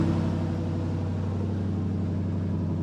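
A one-off TVR-based Mk1 Escort with a V8 runs at a steady idle, a continuous low burbling drone at moderate distance with no change in pitch.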